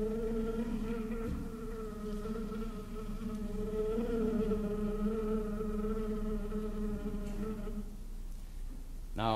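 An orchestral band imitates an agitated American bee with a steady droning, buzzing sustained tone held throughout, fairly loud and continuous, ending in a brief rising flourish.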